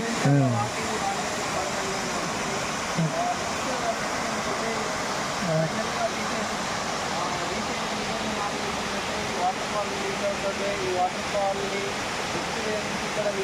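Pilligundam waterfall deep in the dense Mangi forest, a steady, full rushing roar of falling water that continues unbroken, with faint voices briefly audible beneath it.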